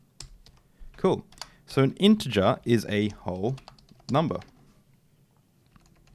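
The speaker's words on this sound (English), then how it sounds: "this keyboard is really hard to type on" Quick clicks from a hard-to-use computer keyboard come in brief bursts, partly beneath a man's speech, then a few scattered taps once the talking stops.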